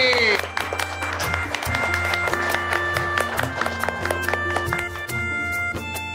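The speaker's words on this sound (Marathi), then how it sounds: "पुन्हा एकदा जोरदार टाळ्या मम्मी साहेबांसाठी" An audience gives loud applause for a woman being honoured at a women's empowerment function, the dense rapid clapping sustained throughout with voices mixed in.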